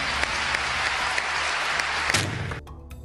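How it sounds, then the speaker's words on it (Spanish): Television studio audience claps in a steady, dense burst of applause with a few sharper individual claps standing out, cutting off abruptly near the end of the short stretch. "un aplauso para Gilles."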